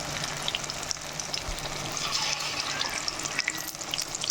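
Chicken 65 pieces fry in hot oil with a continuous crackling sizzle, fairly quiet and steady, with a light stir or scrape now and then and no talking.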